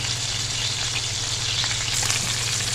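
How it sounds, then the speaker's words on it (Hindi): Fish fries in hot oil for a fish curry, giving a dense, steady sizzle with small crackles throughout. Nobody speaks. "हमारी फ़िश जो है ये फ्राई हो गई है"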